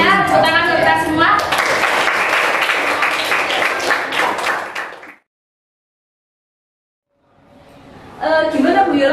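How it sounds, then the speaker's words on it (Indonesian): A classroom group bursts into lively clapping mixed with voices, then it drops abruptly to silence before the noise starts up again. "Tepuk tangan untuk kita semua."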